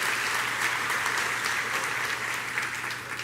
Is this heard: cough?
no